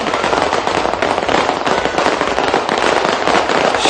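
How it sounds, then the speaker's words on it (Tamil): Sky fireworks at a Christmas festival zone crackle and burst continuously, a dense, loud barrage of overlapping pops and rumbles with no pause and no talking. "சக்தி சிரச நத்தார் வலயத்தின் வான வேடிக்கைகள்"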